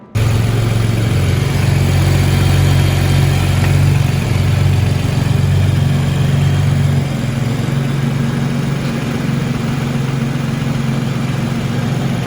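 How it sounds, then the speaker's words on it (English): BMW F30 with a B58 turbo engine fitted with a Williams Performance intake pipe idling, a steady low droning hum with a deep rumble, close and loud, easing slightly partway through. "let's go ahead and listen to the car"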